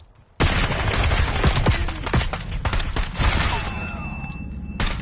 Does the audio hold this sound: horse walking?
no